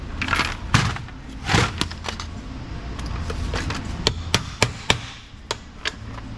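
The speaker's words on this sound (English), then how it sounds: "Loud noises, hammer noises." Hammer blows on an engine part of a Toyota Highlander AWD with the 3.3 engine, sharp metallic strikes, some in quick clusters and others spaced apart, close and loud.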